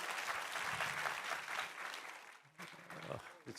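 A church congregation claps in warm, sustained applause during a Sunday worship service, the clapping thinning out toward the end as a voice speaks over it.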